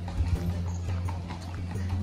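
Horse hooves clip-clop steadily on a path at Matheran, a hill station where horses are hired at the viewpoints, with a continuous low hum and faint crowd noise underneath.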